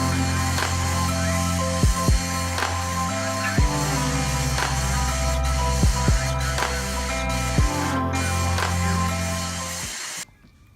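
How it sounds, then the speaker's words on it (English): Vacuum cleaner with an extension wand cleaning out a pet cage, a loud continuous motor drone close by, with brief knocks and scrapes as the nozzle moves, cutting off at the end. "I'm gonna go ahead and use a vacuum extension to like get everything up in all"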